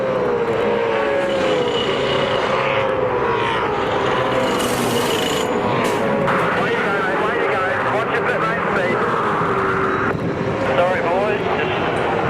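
A V8 Supercar at a 2007 championship round rolls down pit lane, its engine a steady droning rumble with shifting pitch, heard under continuous commentary and crowd ambience.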